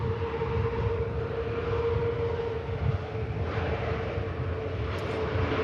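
A British Airways Airbus A321neo airliner at Manchester Airport gives a steady, loud jet roar with a constant tonal whine running through it. The sound holds level for several seconds with no voices.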